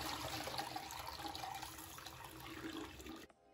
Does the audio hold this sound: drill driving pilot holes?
no